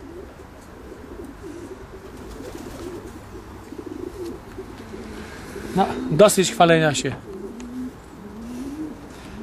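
Pigeons coo softly in a loft, low rolling calls repeating in the background, with a louder burst of cooing and wing or body movement near the middle while someone talks over it.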